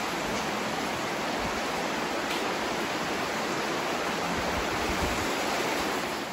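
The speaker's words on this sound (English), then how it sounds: "Some water trickling down" Water trickles down inside Tytoona Cave as a faint, steady hiss that holds without a break and has no voices over it.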